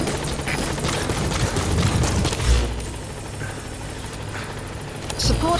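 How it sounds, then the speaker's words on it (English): A support helicopter arriving in Metal Gear Solid 5, its rotor throbbing steadily alongside game sound effects, with a voice speaking over the noise. "Support helicopter has arrived."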